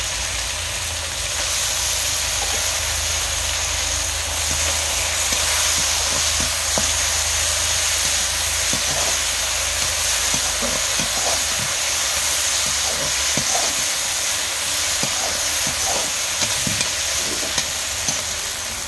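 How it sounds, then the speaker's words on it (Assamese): Fish frying in a pan with roselle leaves, a loud continuous sizzle and hiss with scattered soft scrapes and taps of stirring. "মাছকেইটা অকণমান ভাজি ল'লোঁ তাৰপিছতে এনেকৈ মেটেকাখিনি"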